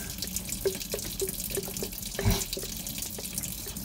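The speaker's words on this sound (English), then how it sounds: "All right, so that's flowing really nice." Water runs steadily from the cooling outlet of a 2000 Mercruiser 5.7L boat engine during winterizing, a continuous close splashing flow with a few faint dripping plinks and one brief thud.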